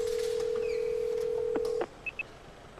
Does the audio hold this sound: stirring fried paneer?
no